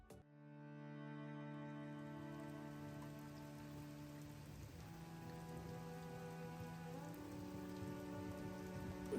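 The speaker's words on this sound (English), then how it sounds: "A lot of rain." Steady rain pattering on a surface in a swamp, a continuous hiss with a low tonal hum running underneath, fairly constant throughout.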